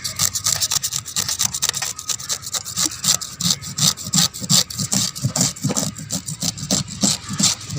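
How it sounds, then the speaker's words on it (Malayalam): A knife scraping scales off a whole fish for a chilli fry, with rapid, rhythmic, rasping strokes up close, loud and continuous, with no voices. "ഇങ്ങനെ പിച്ചാത്തി വെച്ച് വെറുതെ ചുരണ്ടിയാൽ തന്നെ പോവും."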